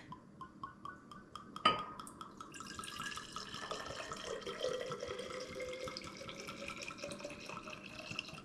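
Liquid is poured to fill a container almost to the brim, a soft steady trickle following a sharp glassy clink, rising slightly in pitch as it fills, quiet and close.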